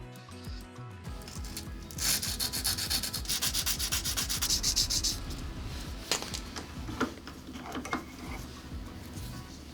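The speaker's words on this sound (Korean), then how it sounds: "핸들 쪽은 이 사포를 사용해서 작업을 해줄 거고" Close, steady rasping of sandpaper rubbed back and forth in quick strokes on a knife handle, easing off into scattered scrapes and taps.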